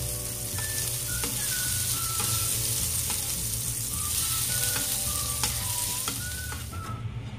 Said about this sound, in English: Ilagay natin yung ating butter.